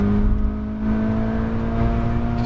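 A 2020 Toyota 86 GT's engine holds a steady, loud drone with sustained harmonics while being driven hard on a hot lap through a race circuit's turn 1 complex, with no pause or voice over it.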